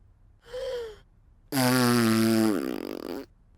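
A short wavering toot followed by a loud, blaring horn blast that wobbles and sputters, sounding strained and off-key, close by, as the horn is blown very hard.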